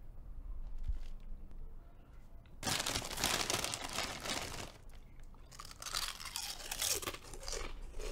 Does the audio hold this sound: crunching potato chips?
yes